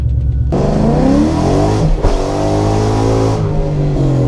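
A 2001 Ford Mustang GT with a swapped-in Coyote 5.0 V8 revs loudly and close, its engine note climbing and holding with a brief dip midway, with no talking over it.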